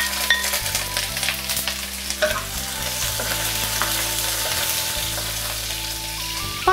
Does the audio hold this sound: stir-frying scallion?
yes